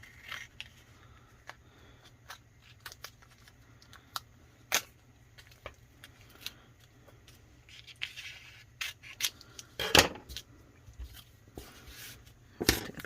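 Scissors snip a corner of vinyl while a tumbler is being decorated, making faint, sparse clicks and cuts with one sharper cluster near the end, close and quiet with no talk.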